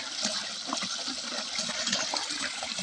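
Water rushes steadily from an irrigation chamber into a farm field channel, a continuous close gushing flow that stays fairly loud and even throughout, with no voices.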